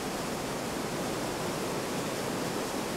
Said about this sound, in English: The river flows on relentlessly, pouring an incredible 600 cubic meters per second over the falls.